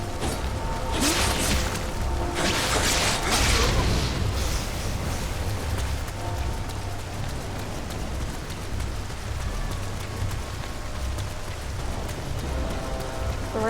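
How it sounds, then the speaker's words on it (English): Steady rain falling in the video game Nioh, a constant broadband patter that stays loud and even throughout with no talking. "The rain actually sounds kind of soothing, in a way. I like the sound of rain."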